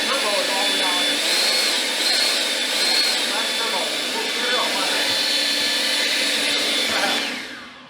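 A Kobalt 24V cordless leaf blower runs on its turbo setting, giving a loud, steady, close-up rushing roar that holds for the whole stretch before tapering off at the end.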